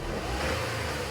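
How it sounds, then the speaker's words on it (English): A £225 used car's engine revs briefly, a short steady roar at close range with no voices. "Let's give it a little bit of a rev."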